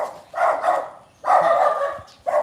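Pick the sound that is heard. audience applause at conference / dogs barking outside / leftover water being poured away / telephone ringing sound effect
dogs barking outside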